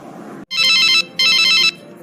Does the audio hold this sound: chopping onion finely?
no